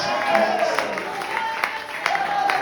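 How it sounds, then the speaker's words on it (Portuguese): A church congregation applauds during a prophetic worship service, a dense, steady wash of many hands clapping with a few louder claps standing out, under faint crowd noise. "Quem puder dar glória, glorifique e aplaude."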